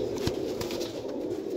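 Pigeons of a hand-picked flock coo steadily at close range, with soft wing flaps breaking in at a couple of moments and no voices.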